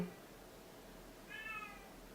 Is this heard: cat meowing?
yes